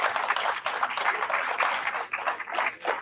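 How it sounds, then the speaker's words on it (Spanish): An audience at the opening of a forum on sustainability applauds to welcome the speakers, a dense, steady wash of many hands clapping that fills the room without a break, with no voices over it. "Lo recibimos con un aplauso"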